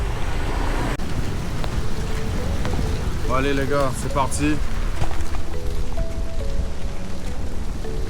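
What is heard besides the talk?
rain falling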